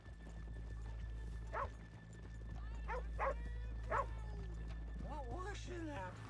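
Horses clip-clop in the Red Dead Redemption II video game, a few short hoof clops over a steady low ambient hum while a horse snorts and voices talk nearby.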